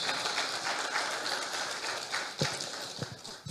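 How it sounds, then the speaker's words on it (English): Audience applause at a gas utilisation forum opening ceremony in Nigeria, a dense wash of clapping with a few sharper individual claps standing out near the end. "Can we please give him another round of applause?"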